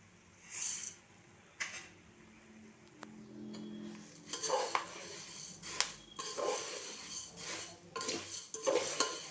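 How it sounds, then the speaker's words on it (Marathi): Puffed rice (chirmure) stirred continuously in a pan over a low gas flame while making spiced bhadang snack: close, intermittent dry scraping and rustling strokes with light clinks, no voices. "आणि त्यानंतर आपण थोडे थोडे चिरमुरे यामध्ये घालून घ्यायचे आहेत आणि सतत एकसारखं आपण हे ढवळत घे घेणार आहोत"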